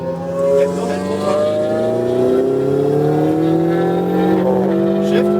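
A Ferrari 488 GTB race car accelerates at full throttle on a track, its engine note rising steadily in pitch as revs climb, loud and close from the cabin, with a brief dip near the start.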